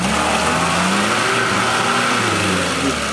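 Lada Niva 4x4 stuck in a ditch, its engine revving hard and steady, a loud, close, sustained drone with shifting pitch that holds without a break.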